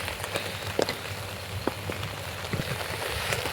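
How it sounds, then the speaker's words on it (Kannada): Heavy rain pours down outdoors, drenching equipment left out; a dense, continuous hiss of drops fills the whole stretch, with occasional louder individual splashes, fairly close and without any voices. "ಇನ್ನೂ ಜಾಸ್ತಿ ಮಳೆ."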